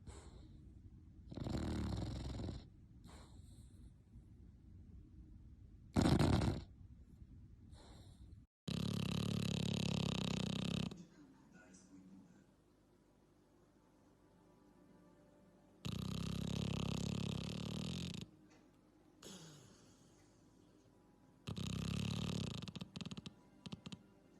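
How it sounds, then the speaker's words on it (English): A sleeping dog snores loudly, long rumbling growly breaths recurring every few seconds with quiet pauses between, close to the microphone. "You're fucking snoring like a motherfucker"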